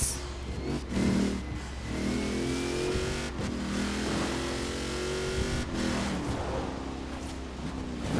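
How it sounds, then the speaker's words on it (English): A car in Forza Horizon 4 revs its turbocharged engine, a steady mid-pitched drone that rises and falls as the throttle is worked, with faint turbo whistles over it and no talk. "Just listen to my turbo."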